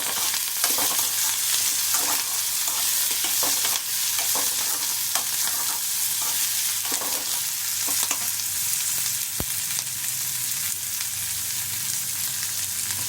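Chopped onion, curry leaves, grated coconut and coriander leaves fry in hot oil, a continuous crackling sizzle with repeated soft scrapes of stirring and one sharp tap of a utensil, with no voices.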